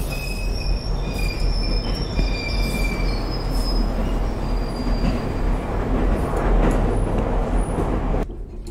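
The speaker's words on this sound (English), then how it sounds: "There's my train." A train pulls in within The Ghost Train, its wheels letting out long, loud, high squeals over a heavy rolling rumble, close by, before cutting off abruptly near the end.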